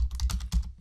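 A quick burst of about half a dozen keystrokes on a computer keyboard, close and crisp, as a project name is typed into a field.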